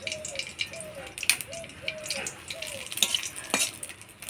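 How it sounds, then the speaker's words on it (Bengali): Whole garam masala, dried red chillies and bay leaves crackle and hiss in hot oil, with steady sizzling, scraping stirs and sharp little pops, plus faint chirping in the background. "এবার ফোড়নে দিয়ে দিব গোটা গরম মশলা, শুকনো লঙ্কা, তেজপাতা"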